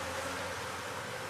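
Bees swarm around a beehive, a brief, steady, fairly quiet buzzing drone with no voices.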